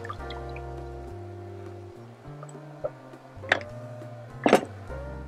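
Beef bourguignon sauce is poured back into a pot, heard as soft liquid trickling with a few wet drips and ticks of utensil against metal, quiet and close, with no voices.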